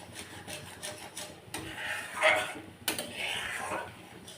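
A spoon scrapes and rubs around a pan of cream being cooked down into ghee, making soft repeated rasping strokes close by with a few sharper scrapes.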